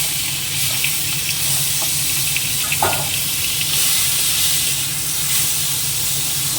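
Hilsa fish heads fry in oil in a wok with dried red chilies and cumin, giving a loud, steady hiss. A brief clatter sounds near the middle, and no one speaks.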